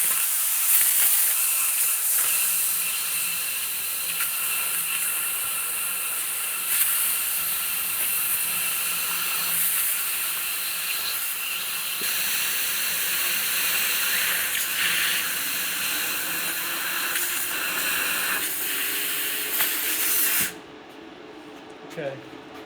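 A modern handheld laser cutter works through an old 100-year-old steel weld with a steady bright hiss and spitting sizzle for about twenty seconds before cutting off abruptly, with faint talk underneath.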